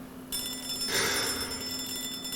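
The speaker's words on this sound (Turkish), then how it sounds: "Telefon çalıyor" Telephone ringing inside a Hello Neighbor mod game, an electronic ring that starts abruptly after a moment of quiet and continues steadily, close and clear, with no voices.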